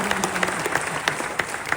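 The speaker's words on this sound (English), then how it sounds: "well, you can clap for that too" Applause from an audience at a Knox County mayoral campaign kickoff, a brief, moderate patter of scattered clapping with some crowd noise, short and fairly even throughout.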